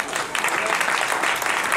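Applause from a room full of people, loud and sustained with dense overlapping claps, some voices mixed faintly into the clapping.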